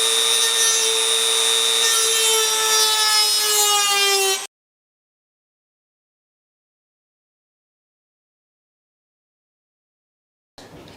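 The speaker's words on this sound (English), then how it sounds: "I'm not good with the Dremel, so we're just gonna do the best we can here" A Dremel rotary tool cuts into a Dell PC case with a loud, steady high-pitched whine for about four seconds, then stops abruptly into silence before a brief burst at the end.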